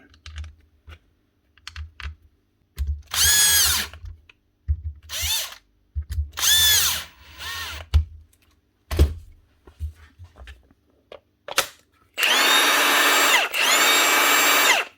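A repaired Milwaukee M18 impact wrench fires in several short bursts of loud whirring, with two longer runs at the end, close, separated by clicks and handling noise, and no speech.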